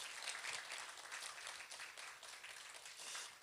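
A church congregation at Sunday worship applauds to welcome visiting guests: a faint, distant, steady wash of many hands clapping, with no talk over it.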